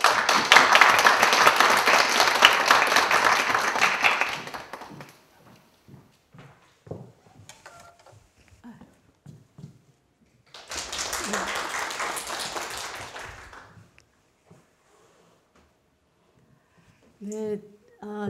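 Loud, dense clapping from an alumni audience at a Yonsei University humanities lecture, welcoming an alumna author to the stage. It lasts about five seconds, then gives way to a speaker's voice with quieter stretches.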